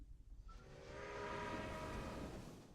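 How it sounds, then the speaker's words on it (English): Trains rolling along railway track in the Railway Empire video game, a faint, steady rumble with a rising tonal hum and a brief horn-like note, continuous over a few seconds. "we've only got 25 trains running at the moment"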